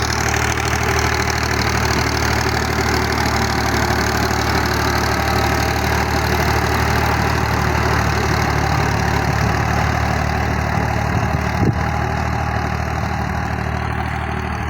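A 1979 Fiat 480 tractor engine runs steadily while driving a large 60-blade rotavator, giving a loud, continuous diesel drone with churning mechanical noise that barely changes over fifteen seconds and has no voices.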